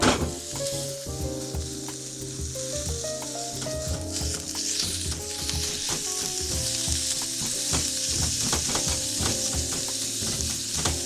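Minced meat, about 100 to 150 grams, fries for meat miso, a loud continuous sizzle broken by repeated scraping and stirring clatter in the pan, close and without talk.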